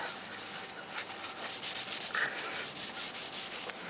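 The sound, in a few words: wiping excess finish off a wooden gun stock with a towel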